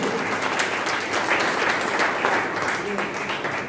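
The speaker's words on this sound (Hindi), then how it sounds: "इसे एक जोरदार अपने लिए ताली बजाइए," Loud, sustained applause from a large audience at a talk on the constitution, a dense steady roar of clapping filling the whole stretch with murmuring voices mixed underneath.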